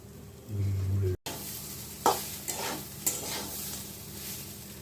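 Barnyard millet with turmeric sizzling and frying in a pan, a steady crackle with a few sharp stirring scrapes, close and alone.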